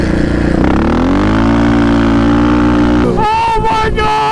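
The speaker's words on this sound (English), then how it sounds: "I can't wait to roll on the throttle for the first time." A Polaris Sportsman XP 1000 ATV engine revs hard under throttle, a loud sustained roar climbing in pitch before dropping into choppy, uneven revving near the end.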